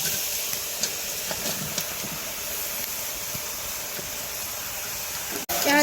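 Chopped bottle gourd tipped into a hot pan of frying spices and green chillies sets off a steady, close, bright sizzling hiss that holds evenly for several seconds, then cuts out abruptly near the end.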